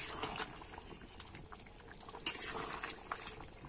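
A potato, ridge gourd and prawn curry bubbles in a pot, giving a soft, continuous simmering patter with a few sharper pops, close and quiet.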